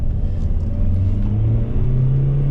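An MG ZT-T CDTi diesel estate car driving, heard from inside as a steady low engine and road rumble with a rising drone, continuous and fairly loud.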